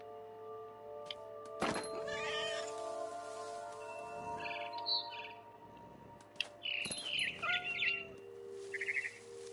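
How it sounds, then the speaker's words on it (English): Bird chirping and tweeting in the video game What Remains of Edith Finch, brief bright calls rising over steady ambient game sound, with thumps and other in-game noises in between. "Then I heard chirping outside my window."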